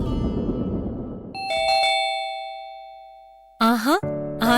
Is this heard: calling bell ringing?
yes